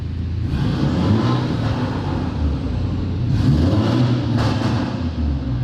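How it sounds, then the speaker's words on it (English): BMW G20 with stock exhaust in sport mode, its engine revving steadily near the listener with a low rumble and two sharper bursts toward the end, with no talk over it. "So the G20 actually comes with pops and bangs in sport mode."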